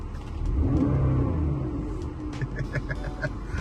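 A BMW E46 engine revving nearby, a deep rumbling surge that swells early then settles into a steady throaty idle, with faint voices in the background.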